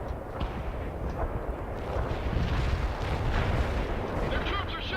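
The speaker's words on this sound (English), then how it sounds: "Their troops are shooting at us." Battlefield gunfire and artillery in the video game World in Conflict, with dense rumbling blasts and cracking shots rolling continuously, heavy low booms swelling in the middle, loud and busy throughout.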